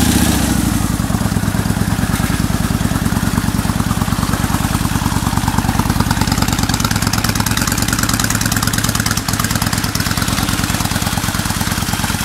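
A fuel-injected 2002 Kawasaki Vulcan 1500 Nomad motorcycle engine cranks and catches, then settles into a loud, steady, throbbing idle with rapid even pulses, heard close and alone.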